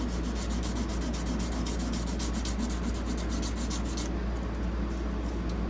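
Sandpaper rubs steadily against the metal frets of a 1937 Epiphone Triumph guitar, a continuous close rasp with quick rhythmic strokes that smooth out near the end.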